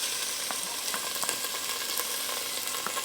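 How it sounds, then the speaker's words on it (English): Onion, hot pepper, pimento and curry leaves sautéing in hot oil, a steady close sizzle with occasional crackles and pops throughout. "we're gonna saute our onion, hot pepper, pimento, and our curry leaves"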